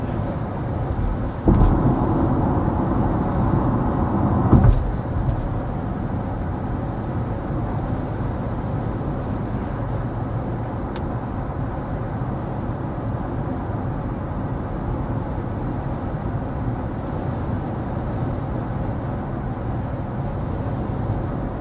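Cabin road noise in a 2025 Kia EV6 at 55 mph is a steady broadband rumble of tyres and wind, low and constant, with a couple of brief knocks early on.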